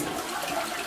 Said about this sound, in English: Go flush it.